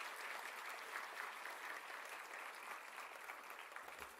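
An audience in a hall at an NMIMS University Day celebration claps at length in steady, even applause, heard faintly and from some distance, with no voices over it.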